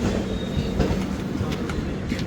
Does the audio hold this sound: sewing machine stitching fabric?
no